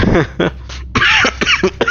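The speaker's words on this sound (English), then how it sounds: "I've had a cough the last 2 weeks and it's coming to the end" A series of harsh, throaty coughs in quick bursts, close and loud, with short gaps between them.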